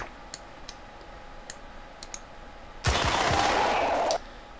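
Heavy machine gun in the game Incubation, a sudden loud burst of continuous rapid fire lasting about a second and a half after sparse faint clicks.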